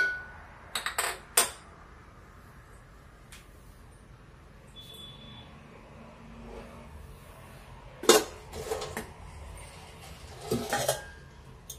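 A kadai (cooking pan) is handled on a stove: a few light metallic clinks and knocks at the start and more around the eight-second mark, with quiet stretches between them and no talk.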